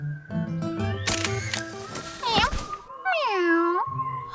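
A cartoon camera clicks to take a picture, a short snappy shutter sound, alongside cat-like meowing and bright musical tones in a children's animated show.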